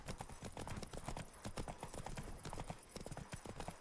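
Horse hooves trot in a steady clip-clop rhythm in The Witcher 3 video game, continuous and fairly close throughout, with faint game ambience underneath.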